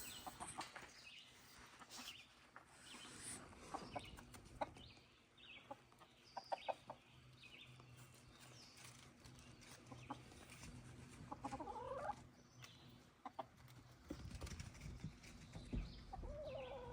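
Chickens cluck softly and intermittently in a pen, with scattered short calls and rustling over a quiet, low background hum.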